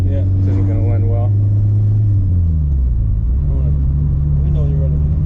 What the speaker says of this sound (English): We'll do a little third gear. I'm going to roll on in third gear.